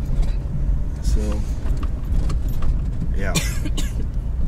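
A car drives along a road in northern Maine toward Bible Point, its steady engine and road noise running throughout with a brief jingle of keys and a person talking over it.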